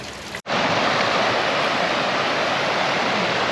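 A creek swollen and flooding after a very hard rain: loud, dense, steady roar of rushing water close by, beginning abruptly after a brief cut and continuing unbroken with no voices.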